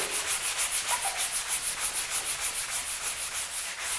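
Sandpaper rubbed back and forth over wood in quick, even strokes, a close rhythmic rasping that repeats steadily.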